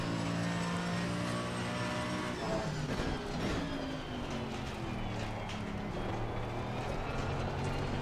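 A Mercedes AMG GT3 race car in a racing video game revs at full throttle, its engine note climbing and sweeping in pitch as it accelerates, steady and loud throughout with no talking.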